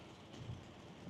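Rain heard from inside a car driving on autopilot, a steady low rumbling wash of road and rain noise filling the cabin, even and continuous with no voices.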